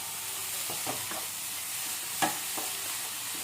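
Chapati laddu mixture with a splash of water or milk being stirred in a pan over a low flame, a soft steady sizzle broken by a few light scraping strokes of the spoon.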